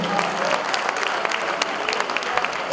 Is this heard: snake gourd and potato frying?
no